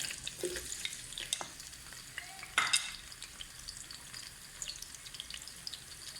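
Onions fry in hot oil on a stove for a potato and green bean curry. A faint, quiet sizzle goes on throughout, broken by a few soft utensil clinks and one brief clatter.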